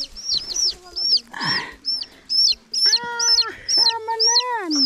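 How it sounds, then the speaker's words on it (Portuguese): A hen and her chicks cluck and chirp in quick, close bursts, with high peeping calls repeating over lower clucks and a brief rustling flutter. "Galinha chegou com os pintos aqui."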